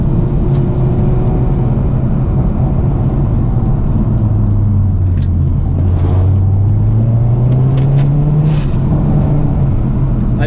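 A Hyundai Veloster N engine drones loudly from inside the cabin with the windows open, its pitch rising and falling through the gears over constant road and wind roar, with a few faint clicks and no talking.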